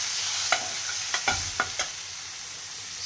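Ground spices, including cumin-coriander powder, Kashmiri red chilli, pepper, salt and fenugreek powder, are stirred into paneer in a pan. A steady hiss of frying is cut by a handful of sharp, separate spatula scrapes.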